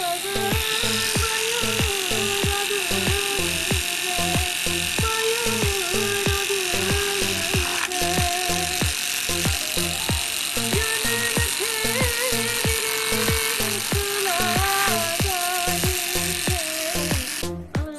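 A homemade tattoo machine buzzes loudly and continuously with a fast, steady, slightly rough electric-motor whine that holds the same pitch nearly throughout and cuts off at the very end.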